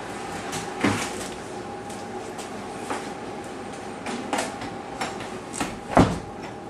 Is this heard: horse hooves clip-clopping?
no